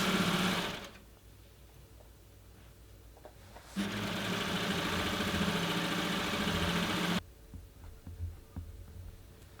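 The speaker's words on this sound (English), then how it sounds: "just trim those edges off and sew that long length" A sewing machine stitches a long ruffle length of fabric in two steady runs, a quiet whirring hum with a short pause between, ending with faint handling clicks.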